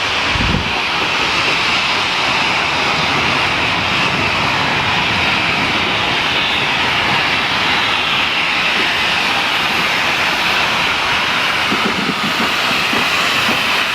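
A locomotive on the Mornington Tourist Railway driving backwards, its engine a loud, steady, close rumble with a continuous roar that holds evenly throughout.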